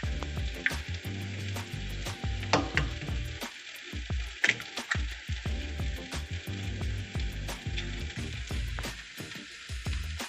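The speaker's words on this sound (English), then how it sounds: "Add the tomato and onion mixture to the hot oil in the pan." A tomato and onion mixture sizzles and fries in hot oil in a pan, a steady loud crackle throughout with clattering utensil scrapes and stirring knocks on top.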